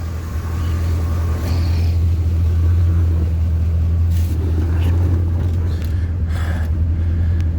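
A car engine idling after a check under the hood, a steady loud low hum that holds evenly through the whole stretch with faint background noise above it.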